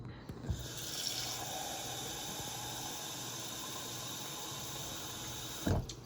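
Clean drinking water runs steadily from a tap, a continuous close hiss and splash lasting several seconds, with a short knock near the end and no talking.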